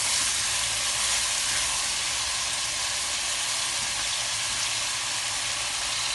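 Fried rice sizzles loudly in a pan as it is stirred, a steady, dense frying hiss with a low rumble underneath that runs unbroken and close throughout.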